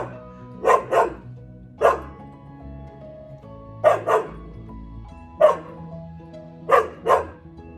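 A dog barks in short bursts, mostly single or paired woofs spaced a second or two apart, fairly close against a quiet room.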